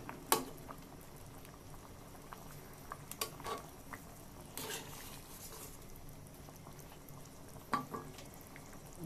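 Rohu fish curry with potatoes, taro and mixed vegetables simmers in a pot, a faint, continuous soft bubbling with a few sharper pops and clinks scattered through it.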